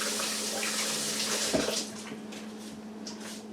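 Water from a kitchen tap runs steadily while fingers are rinsed under it during cookie baking, a broad continuous splash that dips a little partway through.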